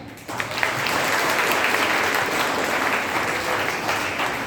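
An audience at a financial literacy workshop gives the teachers a broad, steady round of applause that starts abruptly and continues evenly, filling the hall at moderate distance.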